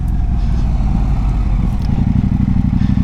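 A KTM 790 Duke motorcycle fitted with a booster plug, ridden in third gear at low revs, gives a dense, continuous engine drone with slight clattering pulses throughout.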